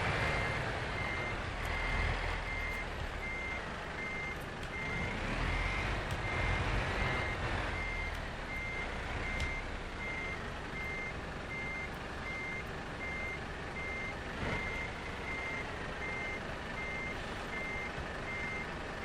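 Steady, evenly pulsed reversing beeps from a truck backing up in Euro Truck Simulator 2 at night, repeating without pause over a continuous low engine rumble, with no talking.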